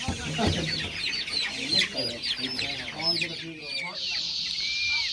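Forty-day-old chickens being caught and loaded for sale, with dense clucking and squawking from many birds close by, along with handling noise and a sharp cry near the end.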